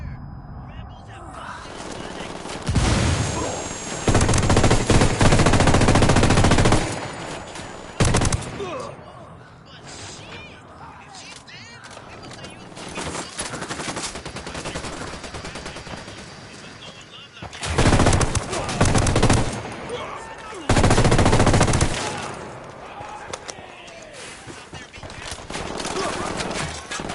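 Bursts of automatic rifle and machine-gun fire in Ghost Recon Wildlands, loud clustered volleys separated by quieter stretches with shouting voices over a rural soundscape.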